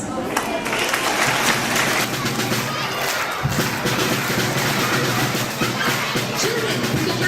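An audience at a school Teachers Day celebration claps in dense, sustained applause, loud and filling the hall, with voices mixed in the crowd noise.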